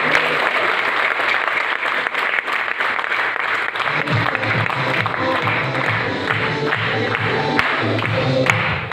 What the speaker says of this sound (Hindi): एक बार हम चाहेंगे जसवीर जी के लिए ताली जोरदार करें